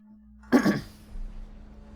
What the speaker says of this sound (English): when I clear my throat you guys don't have to hear it